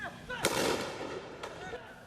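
Two sharp gunshot-like bangs at a hostage standoff scene, the first louder and followed by a short rumbling tail, the second about a second later and weaker, over a faint background murmur.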